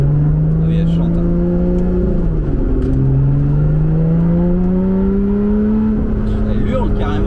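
A Lotus 410 Sport engine screams under hard acceleration, a loud, close, rising wail that steps down briefly at a gear change and then climbs again, with a voice speaking over it.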